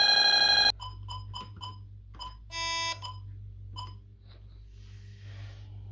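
A Bosch GV4 security alarm system under test blares a loud electronic tone, then a series of short, sharp beeps follows with a second brief blaring burst in the middle, fading to quiet keypad chirps.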